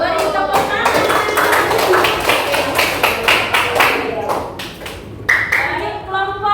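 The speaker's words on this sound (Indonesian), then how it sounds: "Beri tepuk tangan." Audience clapping in a classroom or hall presentation setting, brisk loud claps sustained for several seconds with voices mixed in, then thinning out near the end.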